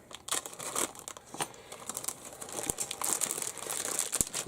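Plastic bags holding parts of a Hasegawa 1/24 scale Datsun Fairlady 240Z 1971 Safari Rally model kit crinkle and rustle continuously, close up, with sharp crackling bursts and no talking.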